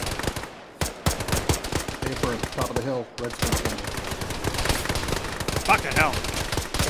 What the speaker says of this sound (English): It's a lot of bullets going off.